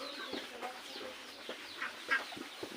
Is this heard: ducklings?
yes